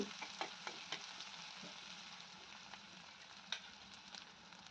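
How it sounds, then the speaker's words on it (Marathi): Finely chopped onion and curry leaves sauté in a pan, a soft, continuous low sizzle with occasional light spatula taps and stirs, fairly quiet and with no talking. "सुरुवातीला बारीक कट केलेला कांदा आणि कढीपत्ता घालून घ्यायचा आणि कांदा चांगला हलक्याशा गुलाबी रंगावर परतून घ्यायचा आहे"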